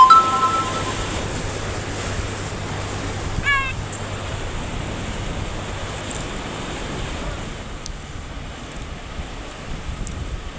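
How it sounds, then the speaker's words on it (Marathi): The Manjra river in flood pours over and around a bridge, giving a loud, continuous roar of rushing water with wind buffeting the microphone and a few faint tones in the background. "इतका पाण्याचा आवाज येतोय"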